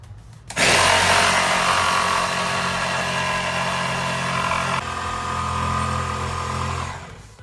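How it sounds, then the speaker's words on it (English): A power drill whirs steadily as it bores into wood, starting abruptly, holding a loud grinding drone with a brief dip midway, then winding down. "I have no idea about drilling a curve like this"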